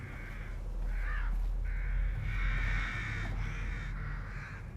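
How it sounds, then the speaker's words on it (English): Crows caw repeatedly in the horror video game The Evil Within, a dense overlapping flock of harsh calls over a low, rumbling ambient drone. "Alfred Hitchcock coming in with all the crows."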